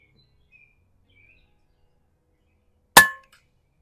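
A single sharp shot from a Marauder Gen 3 air rifle with Terminador upgrades, firing a pellet at an outdoor range, one loud crack with a short decay after near silence.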